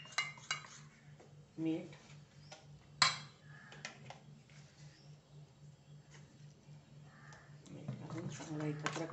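A spoon stirs curd with gram flour and salt in a bowl to break up lumps for Khandeshi kadhi, giving scattered scraping and clinking taps beneath a voice.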